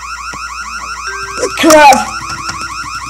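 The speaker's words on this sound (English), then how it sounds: "I set off the alarm!" Car alarm wailing in Christmas Shopper Simulator, a repeating warbling siren that runs steadily throughout, with a sudden crash and a short shout in the middle.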